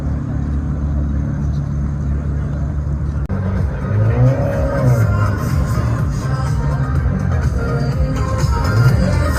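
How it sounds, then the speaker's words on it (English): Matte gray Audi R8 with gold wheels at a car show, its engine rumbling and rising in a rev at moderate distance amid crowd noise. "This very loud Audi R8."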